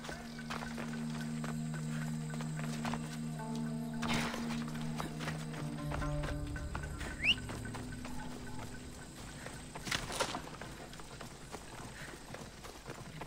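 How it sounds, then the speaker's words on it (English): A horse's hooves clip-clop in a running rhythm in Assassin's Creed Odyssey, steady and fairly close, with game music tones and a couple of brief bursts over the top. "Come on, horsey."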